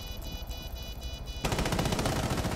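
An LMG in Rainbow Six Siege opens up halfway through, a dense rapid burst of automatic fire that follows a quieter stretch of game ambience.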